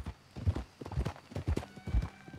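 A horse's hooves clip-clop in a steady rhythm close by, with a whinny mixed in, in the Red Dead Redemption 2 video game; soft talk sits faintly underneath.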